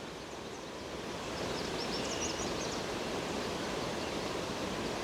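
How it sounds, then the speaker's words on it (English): Water flowing in a stream beside a nature walk around Newmarket makes a steady, soft rushing wash that fills the background, with no voices. "Water's moving over there."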